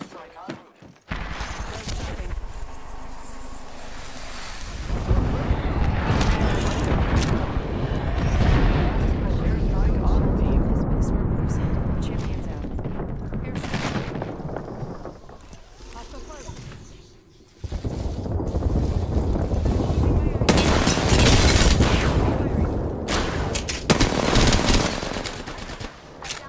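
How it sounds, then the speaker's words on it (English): Heavy video game airstrike: dense rumbling explosions and bursts of gunfire fill most of the stretch, loud and continuous, with a brief lull before a second wave of blasts, under occasional game voice callouts. "Airstrike on."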